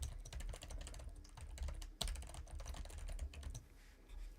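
Rapid, uneven typing on a computer keyboard sitting directly behind a microphone with no noise rejection, a dense stream of close clicks and clacks with a few heavier key strikes, no voices.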